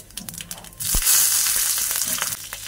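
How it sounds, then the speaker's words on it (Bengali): Black cumin seeds and two green chillies hit hot oil with a sudden loud sizzle that jumps in after a soft clink, then crackles and spits steadily up close. "এবার আমি এই তেলের মধ্যেই একটু কালো জিরে ফোড়ন দিয়ে, এই কালো জিরে দিলাম আর 2টো কাঁচা লঙ্কা দিয়ে দিচ্ছি।"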